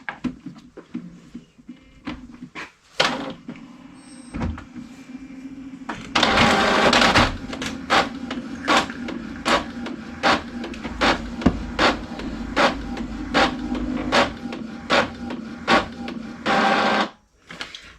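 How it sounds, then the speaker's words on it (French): A home printer prints a black and white sheet, with a loud mechanical whir and grinding feed plus a steady series of rhythmic clunks and clicks as the paper passes through, close and continuous. "je fais une impression en noir et blanc"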